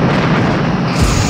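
Space station weapons fire striking a starship in the Star Trek: Bridge Commander game, a loud, dense booming rumble that swells near the end of a short burst.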